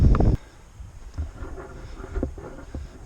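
Wind gusts buffet the microphone outdoors in loud low rumbling bursts, strongest at the start and then rising and falling in weaker gusts.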